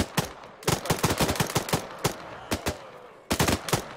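Rapid bursts of automatic gunfire from an Arma zombies game firefight, loud and close, with clusters of sharp shots separated by brief pauses.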